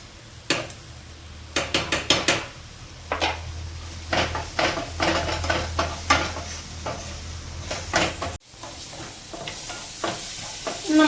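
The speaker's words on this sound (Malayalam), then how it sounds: "നമ്മൾ മഞ്ഞളും ഉലുവയും ഉപ്പും ഇട്ട് സവാളയും നമ്മളുടെ തക്കാളി നല്ലോണം വഴറ്റി" Onions and tomatoes sauté with turmeric, fenugreek and salt in a pan, a soft sizzle broken by repeated scraping and clanks of a spoon stirring against the metal.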